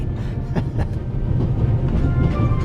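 Steady low rumble of a train rolling on rails in The Raven: Legacy of the Master Thief, with faint rhythmic clicks rising over the continuous drone throughout.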